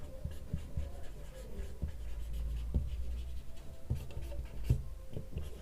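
Hand-written physics equation, a pen or marker scratching steadily across a board or paper up close, with irregular taps and strokes through a low background hum.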